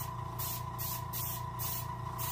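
An airbrush or spray gun lays paint onto a chum salmon taxidermy mount in short, even bursts about twice a second, each a close, steady hiss against a constant tonal hum.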